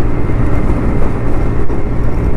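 A TVS Ntorq XP scooter runs at full throttle on a plain road, giving a loud, steady, close engine drone mixed with rushing wind noise that carries on without a break.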